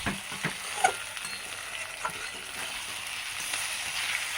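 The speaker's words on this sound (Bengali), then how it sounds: "ওই 2-5 মিনিট ঢাকা দিয়ে এবার রান্না করে নেব।" Food sizzles steadily in a pan, a continuous moderate hiss with occasional sharp scrapes and clicks of a spoon stirring through it, close up with no voices.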